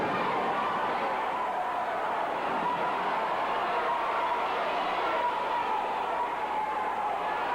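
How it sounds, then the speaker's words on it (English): A wrestling arena crowd at a Continental Championship Wrestling event gives off a steady, dense murmur of cheering and chatter, moderately loud and unbroken throughout, under faint commentary. "You could hear the crowd."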